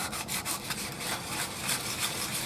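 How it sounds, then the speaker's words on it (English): 220-grit sandpaper rubbing back and forth along the edge of a Jackson five-string bass body, a steady close scratchy rasp with short repeated strokes and no talking. "now we're gonna just take just a little bit of this sandpaper right here"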